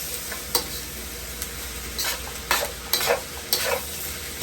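Leftover turkey and ham fried rice sizzles steadily in a hot pan while a utensil stirs it in several distinct scraping strokes, close and clear, with no talking.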